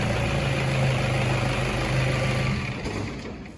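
A car engine runs at a steady idle after starting on a no-start fault, a close, loud low rumble with even vibration that eases slightly toward the end.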